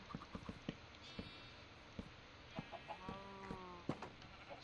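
Chickens in the video game Minecraft, soft short clucks and bawks scattered irregularly over a quiet backdrop with small tapping sounds, low in level and without talk.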